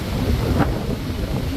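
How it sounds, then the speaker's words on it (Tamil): Strong wind buffets the microphone on a rocky hill path at Male Mahadeshwara Hills, a steady low rumbling roar heard close and loud. "காற்று பேய் காற்று அடிச்சுக்கிட்டு இருக்கு"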